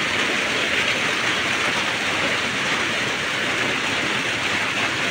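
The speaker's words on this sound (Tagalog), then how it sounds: "Ayaw pa talaga tumigil yung ulan." Heavy rain pours steadily during a flood beside a swollen river, a dense, unbroken roar of water that stays loud and even throughout, with no voices.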